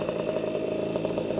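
A Puch Maxi moped engine runs steadily close by, giving a continuous buzzing drone with a rapid pulsing beat and no clear revving.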